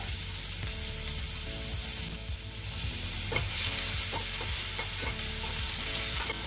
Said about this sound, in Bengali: একটু ফ্রাই হবে, কোনোটাই কিন্তু মানে খুব বেশি ভাজা হবে না, জাস্ট ট্রান্সলুসেন্ট হবে।